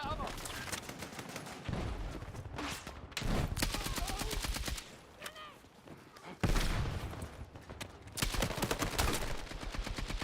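Heavy gunfire in the Battlefield 6 video game, with dense bursts of automatic fire and scattered shots that keep rolling across the whole stretch, loud and close, with a voice speaking briefly.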